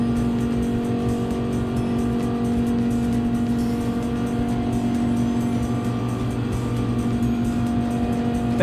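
Race cars in Gran Turismo 7 drone with a steady, loud engine note and tyre noise throughout, continuous and without talk.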